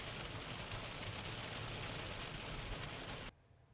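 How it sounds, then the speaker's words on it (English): Heavy rain pouring down during a severe storm, a loud, steady, dense hiss of downpour that cuts off abruptly near the end, with no voices. "Heavy rain at this point."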